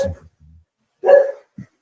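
A single loud, close dog bark rings out, with a short yip after it and a brief bit of low sound before, in an otherwise quiet room.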